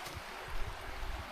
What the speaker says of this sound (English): Pretty little river.